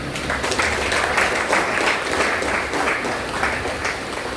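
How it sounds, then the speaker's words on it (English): Audience at a healthcare research symposium clapping steadily, a continuous even patter of many hands at moderate loudness with no break. "Shall we give a clap?"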